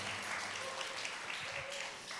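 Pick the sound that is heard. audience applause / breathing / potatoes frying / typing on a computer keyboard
audience applause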